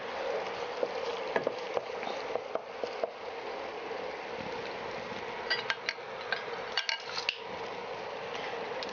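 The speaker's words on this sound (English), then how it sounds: "make sure to fry the onions only on medium heat and always keep scraping the pan" Onions fry in a pan on a hot plate under a continuous sizzle, while a utensil scrapes and clinks against the pan bottom in scattered close taps and strokes, with no talking.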